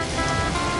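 Rain pours from a summoned cloud in the Discworld point-and-click game, a steady, close hiss of falling water that runs unbroken through the brief moment, with no talk.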